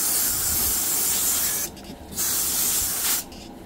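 Water sprays in two strong bursts onto freshly sown seeds, a loud close hiss broken by short pauses and no talking.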